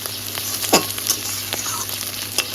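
Kochur loti (taro stolons) and prawns fry in a little oil, sizzling continuously while a spatula scrapes and clatters against the pan in several sharp strokes, one louder swipe early on.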